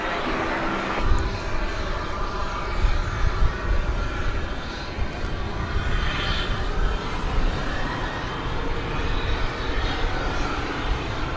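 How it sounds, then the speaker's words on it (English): An American Eagle E-Jet lands at DFW airport at night, its engines a loud steady roar that holds across the whole stretch, with a voice talking over it. "Another American Eagle plane coming in here, as you can see, another E-Jet."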